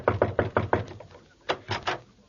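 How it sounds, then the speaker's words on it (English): Knuckles rap on a dressing room door in a quick run of five even knocks, a short pause, then three more. The knocks are close and fairly sharp. "I'll knock on the door."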